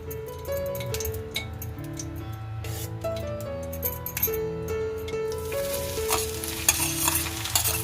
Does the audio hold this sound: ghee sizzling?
yes